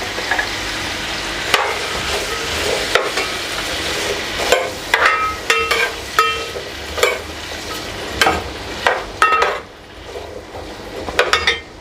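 Small cut pieces of potato fry and brown in a pan while a utensil stirs them, producing a steady sizzling hiss broken by frequent metallic clinks and scrapes against the pan, close and fairly loud, with no talking.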